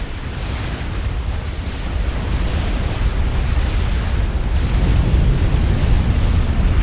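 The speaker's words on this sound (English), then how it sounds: "I'm hearing an explosion up here" A long, dense explosion rumble from the Supreme Commander Forged Alliance strategy game fills the clip, a loud, sustained roar that builds slightly and stays broad and noisy throughout with no speech.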